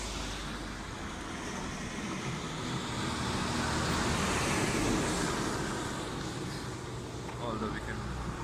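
A car drives along a foggy mountain road near Narkanda in Himachal Pradesh, giving a steady broadband road and engine rumble throughout, with voices speaking over it.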